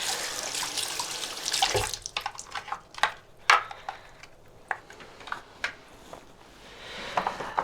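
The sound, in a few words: washing washing machine parts in a sink with water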